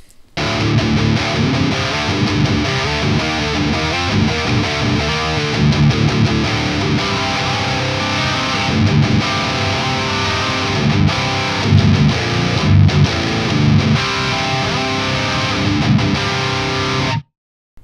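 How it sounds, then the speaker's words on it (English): An electric guitar played through a Raven Volcanic distortion pedal with the gate off gives a loud, dense, saturated tone of sustained chords and riffs, heard alone with no talking, then cut off abruptly at the end. "you can tell that it has a lot of distortion"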